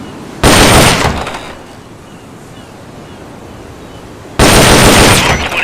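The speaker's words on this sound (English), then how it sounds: "Tranquilizer gun can put enemies to sleep." Gunfire in Metal Gear Solid Peace Walker, two loud sharp bursts about four seconds apart, each ringing out briefly before fading into a quiet hiss.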